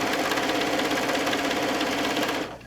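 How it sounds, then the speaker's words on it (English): A sewing machine runs steadily stitching down the first side of a large quilt, a loud, continuous mechanical whir that stops just before the end. "So we're sewing down"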